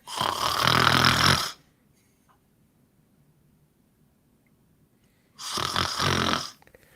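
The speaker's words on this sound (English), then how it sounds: "Somebody's snoring." Two loud, rasping snores, each lasting over a second, separated by several seconds of near silence.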